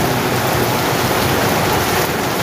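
Loud, continuous rush of rainwater gushing out of a hole during heavy rain, pouring and splashing, a dense steady roar with no breaks, close by.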